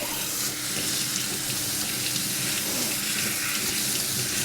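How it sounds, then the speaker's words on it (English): Leeks are rinsed under a running kitchen tap, a loud, continuous close rush of water splashing into a sink. "we're gonna rinse those underwater and get each of those layers clean"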